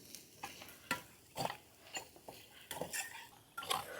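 Potatoes stirred with curry leaves in a pan at a family campsite, with irregular scraping and clinking of a spoon against the metal and a faint sizzle underneath, quiet and close.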